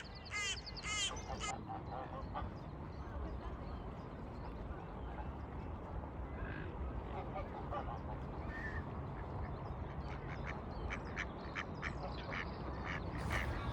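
Ducks quack repeatedly over a busy outdoor background at a duck park in Leicester, UK, with a few louder calls near the start and scattered quacks throughout.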